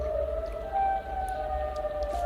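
Siren Head's eerie siren wail in a horror video game, a steady sustained tonal drone with a slight swell midway, holding throughout over a low rumbling background, with no talking.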